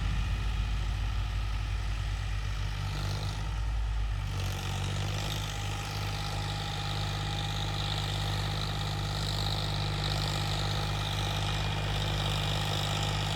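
A John Deere tractor engine runs steadily at idle or low load, a constant mid-low rumble with a brief change in character early on, moderately loud and with no voices.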